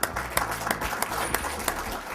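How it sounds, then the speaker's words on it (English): Audience applause in a courtroom-style program session, a steady spread of clapping with sharp individual claps standing out, moderately loud and close, with little talk over it. "Well, I think you deserve a round of applause."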